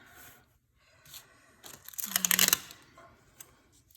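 Paper being trimmed while decorating a pink wellness planner spread, a few soft rustles followed by a brief crisp cutting or tearing burst, close and fairly quiet.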